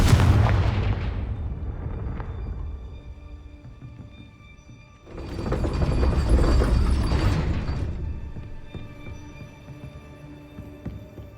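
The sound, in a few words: Confringo fire spell blasts from the video game Hogwarts Legacy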